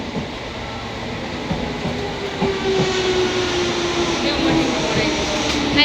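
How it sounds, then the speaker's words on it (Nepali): A London train bound for Aldgate rumbles and hisses steadily, with a faint rising whine as it moves and possible faint voices in the background. "so guys this is the train है अल्गेटको"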